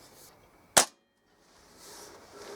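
A single sharp crack from a Kral NP02 air rifle firing at a target, one loud close report with a quick decay and then quiet room ambience.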